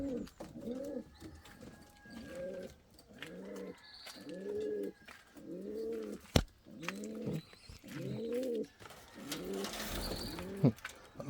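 An Indian fantail pigeon coos in a repeated series of low, rolling calls, about nine in a row, close and steady with faint background clicks and knocks.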